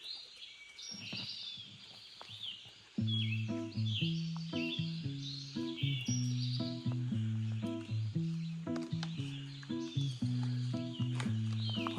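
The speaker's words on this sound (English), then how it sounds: "Let's listen to the birds together this morning." Songbirds chirp and trill high and fairly faint on a drizzly morning along the Appalachian Trail. After a few seconds a louder, pulsing tonal sound starts up nearby and partly masks them.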